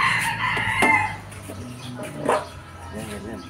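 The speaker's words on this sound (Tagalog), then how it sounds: "Yan yung mga labuyo, mga katuke, inaalpasan lang." Red junglefowl (labuyo) crow in a backyard where they roam free. The crowing rises over clucking fowl, a dog barks nearby and voices murmur in the background.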